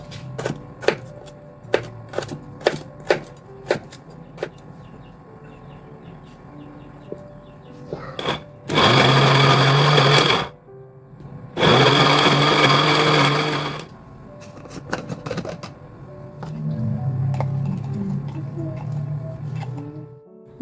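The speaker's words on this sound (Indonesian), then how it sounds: "Nih ada lengkuas sama serai yang mau aku blender kasar." Kitchen blender coarsely chopping galangal and lemongrass, two loud whirring bursts of a few seconds each separated by a short pause, preceded by sharp clacks of handling and followed by quieter clatter.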